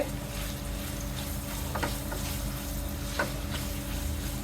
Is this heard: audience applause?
no